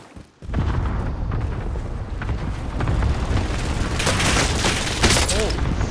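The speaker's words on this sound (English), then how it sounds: "Enemy precision airstrike." Precision airstrike explosions from an enemy in a shooter video game pound in a dense, loud barrage of booms and crackling blasts that rise after a brief quiet start, with voices in the mix.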